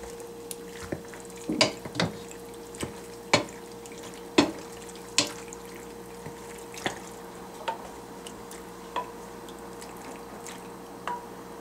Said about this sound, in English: You pour the sauce.